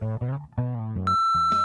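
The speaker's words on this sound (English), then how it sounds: "I got the message machine" An answering machine's message beep: one steady, sustained tone cuts in right after a short stretch of voice-like sound and holds clearly to the end.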